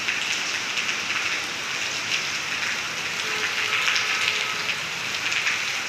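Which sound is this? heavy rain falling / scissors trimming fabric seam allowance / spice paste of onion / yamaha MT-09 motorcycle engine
heavy rain falling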